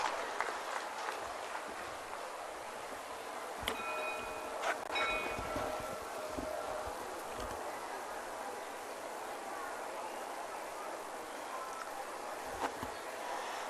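An audience at an official ceremony applauds to welcome a minister, a sustained broad patter of clapping with a few sharper knocks and thumps, fairly distant, with faint voices around it.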